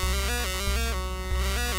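Fuzz pedal circuit on a modular synth distorting a sine wave into a harsh, buzzy, dense tone that steps between pitches, steady and loud throughout.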